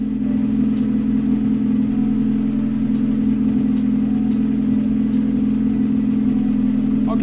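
A Honda Del Sol engine idling, a steady low hum running unbroken and fairly loud close by, with faint small clicks over the top.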